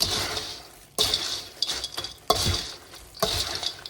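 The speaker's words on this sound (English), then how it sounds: "This is a sage sausage, and I'm going to go ahead and put that in here. Give that a stir." A utensil clinks and scrapes against the pan while cooked sage sausage is stirred into Thanksgiving stuffing. The strokes come in four distinct bursts, close and fairly loud, with no talk.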